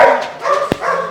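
A dog, from a kennel breeding Pomeranians and German Shorthaired Pointers, lets out a short, loud, close bark with whiny, yipping tones around it.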